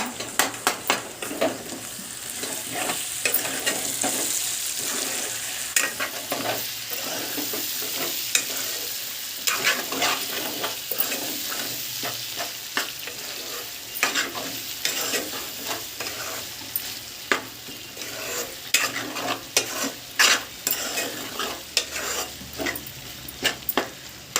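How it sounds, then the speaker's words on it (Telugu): Boti (goat tripe) curry with ginger paste being stirred in a hot pan, a steady sizzle and frying hiss with repeated scraping strokes of a spoon against the metal, close and alone with no talk. "వేసేసాక కొంచెం బాగా కలిపేసుకొని మళ్ళీ ఒకసారి మూత పెట్టేసి"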